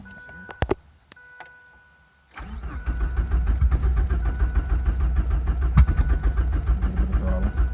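A Ford Probe running on a standalone ECU is cranked and fires up after a few clicks and brief cranking bursts, then settles into a loud, close, rough-sounding idle with a pulsing rhythm.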